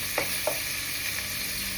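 Garlic and onion frying in a pan, a steady close sizzle with two soft clicks from a stirring utensil early on.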